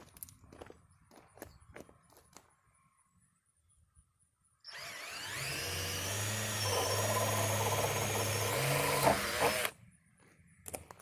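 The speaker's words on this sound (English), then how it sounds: "drill the holes out with your 1/2 inch bit" A power drill fitted with a 1/2 inch bit bores holes for a homemade bull-proof mineral feeder, one steady loud run of about five seconds after scattered knocks and handling sounds, then back to quiet shuffling.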